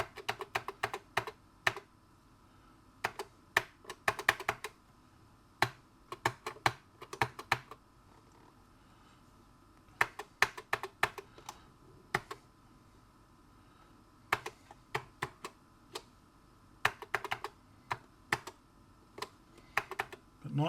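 Keys on a dk'tronics replacement keyboard for a ZX Spectrum being pressed one after another in irregular bursts of close, crisp clicks with short pauses between runs.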